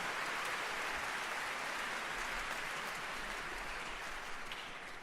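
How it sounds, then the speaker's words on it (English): An audience applauds during an opening speech, a dense, continuous wash of clapping that stays loud and even throughout, with no voices over it. "You can applaud, it's fine."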